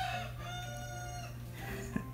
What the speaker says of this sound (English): it wouldn't be one of my videos without a rooster crowing in it